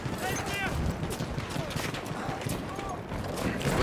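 Dense rattling gunfire crackles in a Battlefield 1 multiplayer battle, rapid automatic bursts and scattered shots piling together without pause, with voices talking over the din.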